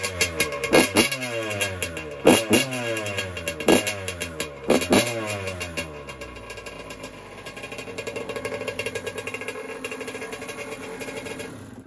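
A dirt bike that has sat unused for a while starts up and revs hard in a few rising bursts close by, then settles into a loud, rough, steady idle.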